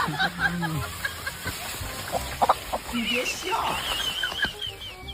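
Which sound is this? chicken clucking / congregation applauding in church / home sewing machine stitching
chicken clucking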